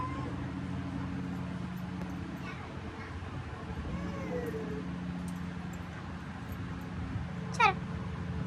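Pet kitten mewing softly and intermittently several times over a background of steady rain and a low hum, with one sharper, louder cry near the end, while a person talks nearby.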